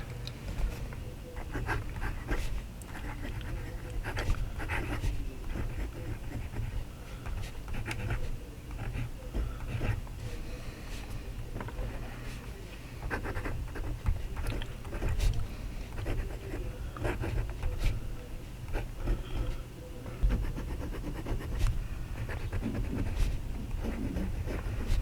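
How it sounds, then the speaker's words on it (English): A Hongdian N10 metal fountain pen scratches across paper in a long, continuous run of soft, close strokes, steady and quiet with small irregular bursts as the nib moves. "I'm very happy how this Hongdian N10 writes."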